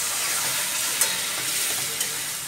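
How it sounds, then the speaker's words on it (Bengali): Ghugni, a yellow pea curry, hits a hot pan of cooked-down masala and sizzles steadily, with two brief scraping stirs, close up and without speech. "এরপরে ঘুগনিগুলো ছেড়ে দেবো।"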